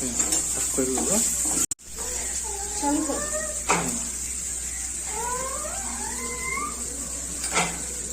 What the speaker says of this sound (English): let us add one by one in and stir all these vegetables